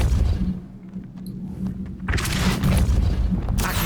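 Depulso repelling spell cast in the video game Hogwarts Legacy, a muffled booming thump and whoosh followed by a louder bright blast of impact noise, over game ambience.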